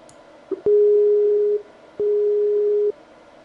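Two long steady electronic telephone tones while calling back, each about a second, separated by a short gap and preceded by a brief click, loud and clear with no voices.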